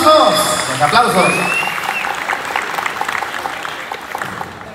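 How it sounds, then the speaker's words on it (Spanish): Guests applaud at a family party with a Tierra Caliente band, clapping that swells after a short burst of music and then thins out, with an announcer's voice over the top. "Que se escuchen fuerte los aplausos."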